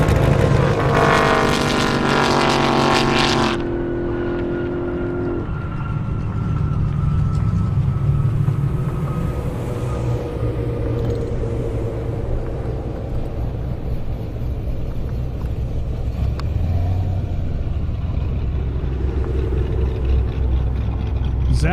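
A Mustang launches on an airport half-mile drag strip, engine roaring loud and near for a few seconds, then fading into a distant drone as the car runs off down the strip.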